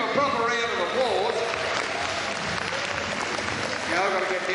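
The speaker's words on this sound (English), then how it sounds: "You better give him a proper round of applause." Audience applause fills a sheep shearing show at the 2013 Sydney Royal Easter Show, a steady clapping crowd lasting throughout, with a voice talking over the top.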